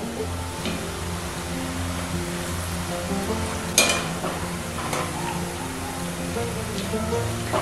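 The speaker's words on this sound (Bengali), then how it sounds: "এই জিলিপি গুলোকেও উল্টে পাল্টে একইভাবে ভেজে নিতে হবে।" Moong dal jilipi frying in hot oil in a kadai, a soft continuous sizzle with faint scrapes and one sharper clack as pieces are turned, quiet and close.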